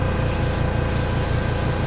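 Airbrush spraying a mist of black paint onto a figure's hair, a loud continuous hissing spray with brief pulses, heard alone.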